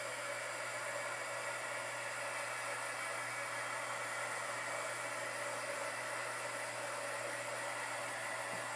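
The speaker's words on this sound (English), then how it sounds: "I'm going to get my dryer out" A hair dryer blows steadily at close range, a constant loud whoosh with no pauses or voices.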